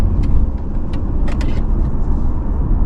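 A 2021 BMW 530i's engine drones from inside the car with the throttle floored, a steady, loud road-and-engine rumble that stays flat rather than climbing in pitch.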